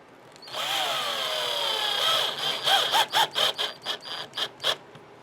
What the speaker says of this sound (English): I just like to get a little starter hole going.